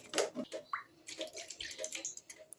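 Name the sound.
pouring water into a bowl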